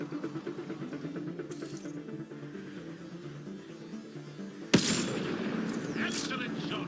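Gunshots in Mass Effect: Andromeda: a sharp loud shot cracks out partway through, followed by scattered firing and rumble, with a voice talking over the game's background sound beforehand.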